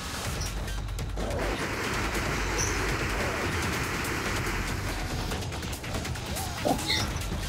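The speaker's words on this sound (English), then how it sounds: "Right, let's weld this." Welding a door shut in the video game Killing Floor on a pier, a continuous hissing, crackling buzz held steadily, with scattered clanks and bangs of combat over it.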